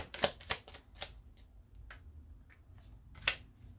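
Tarot cards are shuffled in a few quick riffling bursts and sharp snaps, close and crisp with quiet gaps between them, no talk.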